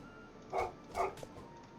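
A dog in Age of Empires 3 lets out two sharp barks about half a second apart, followed by a fainter yip, fairly close against quiet game ambience.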